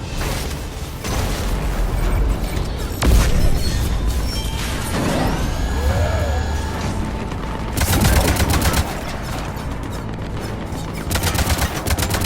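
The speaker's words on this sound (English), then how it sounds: "Cannons engaged." Cannons fire in the Mass Effect 3 video game, a dense barrage of loud blasts and booms with sharp impacts, whooshing sweeps and crashing debris layered over one another.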